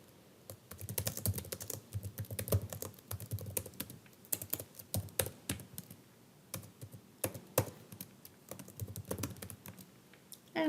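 Steady typing clatters on a computer keyboard while entering citation details in a word processor, with quick irregular keystrokes close up and a few brief pauses.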